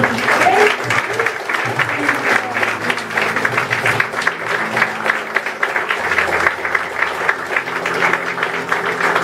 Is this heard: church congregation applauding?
yes